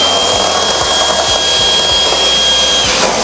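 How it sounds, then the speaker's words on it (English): A Xiaomi Wireless Vacuum Cleaner 2 cordless vacuum runs at full suction with a loud, steady whir and a high whine, continuous and close with no voices. "the suction power of this vacuum cleaner is not a problem"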